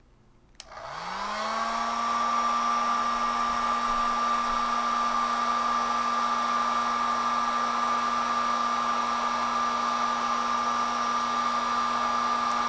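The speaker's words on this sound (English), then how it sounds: "I'm using this heat gun" A heat gun switches on and blows hot air onto an LM35 temperature sensor, a loud, steady whirring roar with a constant high whine that holds unchanged after a brief spin-up.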